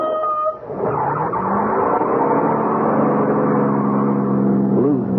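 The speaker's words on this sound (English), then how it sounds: "drowned by the roar of the engine" Car engine roaring loud and steady as a radio drama sound effect, a sustained revving drone with a rising pitch sweep near the end, filling the scene with no voices.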